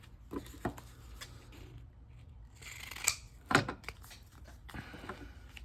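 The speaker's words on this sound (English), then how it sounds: "I'm gonna cut this one right here." Scissors cut through fabric washi tape, giving two or three quick, crisp snips separated by soft handling rustles at close range in an otherwise quiet room.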